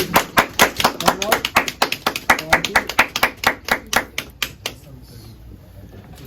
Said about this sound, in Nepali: सबैजनाले तालीले उहाँलाई सम्मान गर्छु।